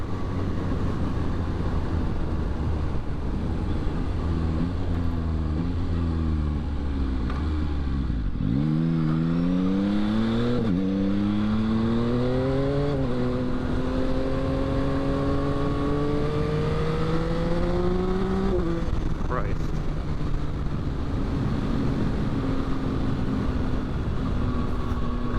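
A 2022 Yamaha XSR900 motorcycle rides along a road, its engine droning low, then dropping and rising in pitch through repeated throttle and gear changes, loud and close over steady wind rush.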